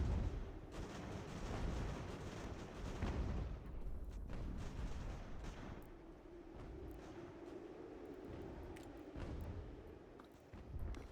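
Cannon artillery fire in the strategy game Ultimate General: American Revolution, including canister shot, with heavy booming volleys and rumbling battle noise that is loud at first and then continues as a dense, sustained barrage.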